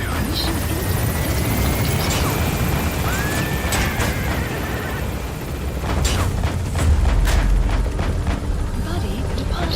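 An extraction helicopter in Metal Gear Solid V: The Phantom Pain climbs away with a steady, loud rotor drone and roar, joined by deep booming thuds and rumbles near the end.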